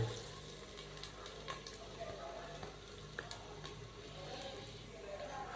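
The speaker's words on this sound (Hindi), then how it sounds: "अदरक और लहसुन के पेस्ट को शामिल करने के बाद हम इसको 1 से 2 मिनट के लिए अच्छे तरीके से भून लेंगे" Ginger garlic paste sizzles and fries in a pan, a soft continuous crackle with scattered pops and occasional stirring scrapes, fairly quiet and close.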